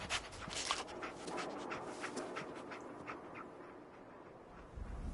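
A dog pants rhythmically in Fallout 4, quick breathy huffs repeating steadily up close over a low game ambience for several seconds.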